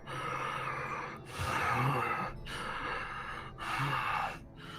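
A voice imitates a badly wounded man's heavy breathing: three or four slow, ragged gasps, each a rasping inhale and exhale, close and fairly quiet, in an even rhythm.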